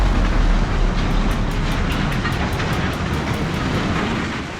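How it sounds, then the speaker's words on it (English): A train rumbles past up close over a level crossing, loud and steady, with a regular clicking rhythm of wheels over joints that fades slightly at the end. "A car was struck by a train at a level crossing"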